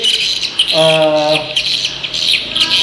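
Swiftlet calls broadcast from an electronic bird caller unit at a swiftlet nesting house, a steady near chatter of high chirps and twitters with a brief harmonic squawk partway through.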